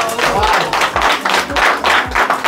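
Several people clap hands together in a steady, rhythmic beat roughly every half second, loud and close, with voices mixed in throughout.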